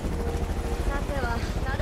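A helicopter in the video game Far Cry 5, a steady low rotor and engine drone heard close, with a voice speaking over it.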